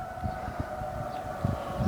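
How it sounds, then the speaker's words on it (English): A town civil defense siren sounds the noon alarm from a distance, a steady sustained wail across the whole stretch, with faint low knocks from nearby in a yard. "Now we do have an alarm going off from the siren letting us know that it's noon."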